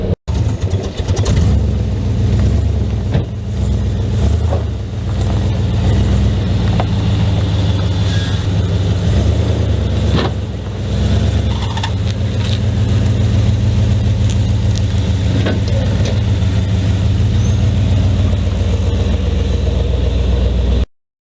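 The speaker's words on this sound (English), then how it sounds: "So I'm going to be pulling it out here on the street" A 1979 Chevrolet Camaro engine runs steadily and loudly as the car is driven out onto the street. A continuous rumble with slight revving goes on for about twenty seconds, and no one talks.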